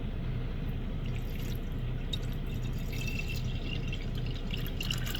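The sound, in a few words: water filling an electric kettle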